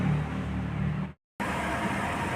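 A car engine running on CNG after its misfire wiring was repaired, a steady even rumble close by that cuts out briefly and then resumes just as steady.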